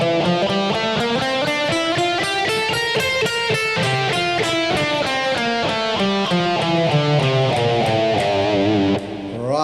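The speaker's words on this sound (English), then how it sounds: "So the next mode is called the Dorian mode." An electric guitar runs through the Dorian mode as a quick stream of single picked notes climbing and descending, sounding close and clear with a slightly overdriven tone, ending with a brief bend.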